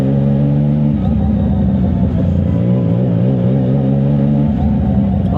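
Remapped 675 NK motorcycle engine on a test ride at Clark Speedway, droning loudly and steadily at low RPM with slight rises and dips in pitch as the throttle shifts.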